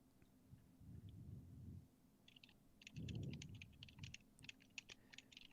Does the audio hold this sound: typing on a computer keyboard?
yes